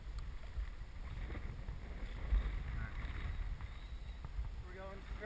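A canoe is paddled through wind-blown water in Bay Head the day after Hurricane Sandy, a low rumbling wind buffet over faint water swishes and paddle strokes, with voices now and then.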